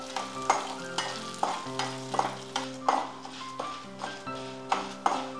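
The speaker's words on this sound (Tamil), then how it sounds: "இதுக்கு தேவையான அளவு காஞ்ச மிளகாய், கோல்டன் ப்ரௌன் ஆகிற வரைக்கும் இதை வறுக்கணும்" Dried red chillies fry in hot oil toward golden brown for a peanut dish, with a soft continuous sizzle and stirring under steady rhythmic tonal music.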